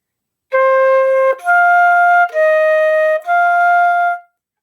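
A beginning band exercise measure played with one wrong note: four sustained wind-instrument tones, each held roughly a second with short gaps, bright and close with no talk.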